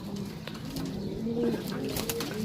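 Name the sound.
pigeons cooing, pigeons for sale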